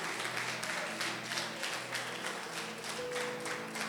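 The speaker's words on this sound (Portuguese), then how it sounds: "Você pode aplaudir bem forte o nome do Senhor?" A church congregation at a worship service applauds loudly and steadily in dense, sustained clapping, with a held musical tone running underneath throughout.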